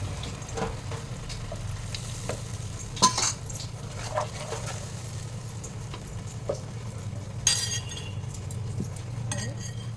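A bowl is rinsed and handled beside a pan of food seasoned with salt and turmeric, with sharp clinks and knocks over a low background sizzle and some splashing water.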